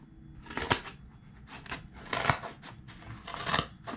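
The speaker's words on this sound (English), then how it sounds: "it cuts through that. That's single ply corrugated cardboard." A Nextool Knight multitool's scissors snip through single-ply corrugated cardboard, giving about five short, crisp cuts spaced roughly a second apart, close and fairly quiet with no talking.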